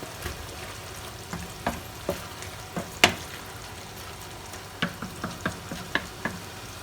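A spoon stirs Filipino-style meat sauce for spaghetti, with water added, in a pan: irregular light knocks and scrapes against the pan over a quiet, continuous sizzle.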